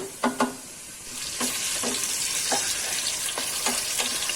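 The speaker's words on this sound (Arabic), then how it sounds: "في الاول خليه يتحمر غير بالزيت فقط" Meat browns in plain oil in a pan with a loud, continuous close sizzle, broken by several sharp scraping stirs at irregular intervals.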